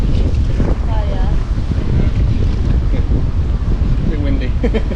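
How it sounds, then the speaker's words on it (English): Steady wind buffets the microphone while canoeing on a river in the Norfolk Broads, a dense continuous rumble throughout, with people talking over it. "A bit windy."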